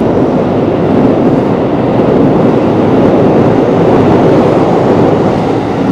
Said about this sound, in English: Always loud underneath the train tracks, of course.